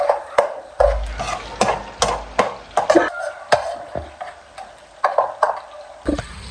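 Chopped tomatoes and green chillies stirred in a frying pan for an aloo baingan stir fry, with repeated close scraping and clinking strokes of a spoon against the pan over a faint sizzle, no talk.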